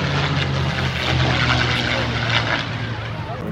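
A propeller plane drones steadily overhead at the Chicago Air & Water Show, loud and continuous, with people talking beneath the engine noise.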